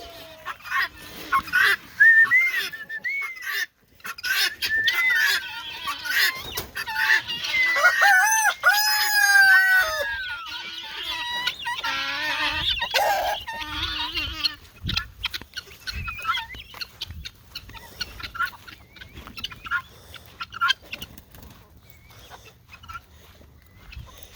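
Chickens and guinea fowl calling close by in a steady, overlapping chorus of squawks, clucks and crowing, loud at first and continuing throughout with no talk.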